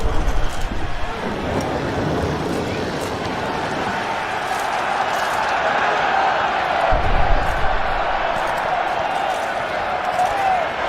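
A crowd of spectators roars and cheers continuously at a knights' tournament arena in The Witcher 3, a dense, sustained mass of voices with scattered clanks and thuds, heard alone with no distinct speech.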